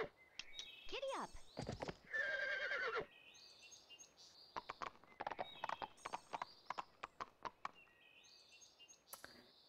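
Horse hooves galloping in the Barbie Horse Adventures video game, rapid clip-clop beats running through most of the clip, with a loud neigh near the start and faint chirping birds in the background.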